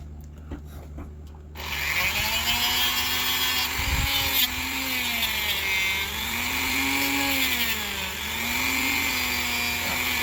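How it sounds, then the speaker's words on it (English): A Dremel rotary tool spins up and polishes a brass part of a 1920s Sessions mission-style clock, giving a loud, sustained high whine that wavers in pitch as pressure on the workpiece changes, close and alone. "I always like putting some on my part first before I turn my Dremel on."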